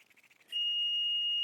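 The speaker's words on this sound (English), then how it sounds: "it beeps showing that I have continuity" A steady, high electronic beep from a multimeter continuity test between a grounding pin and a bond starts partway through and holds continuously to the end, loud and close, after a brief stretch of faint background noise.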